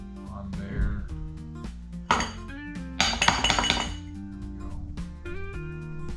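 A metal spoon clinks against dishes and a container while sour cream is served for a Texas crockpot cowboy soup, giving several sharp, bright taps and rattles at irregular intervals, close and fairly loud, with some quiet voice between them.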